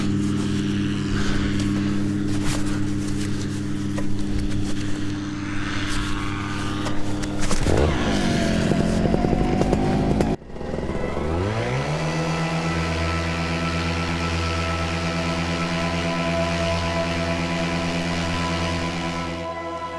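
An underpowered paramotor engine on the Atom runs steadily through a takeoff, with a droning harmonic buzz that rises and wavers, drops out briefly, then climbs back to a strong, sustained close-up whine.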